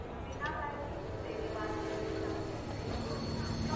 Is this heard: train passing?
yes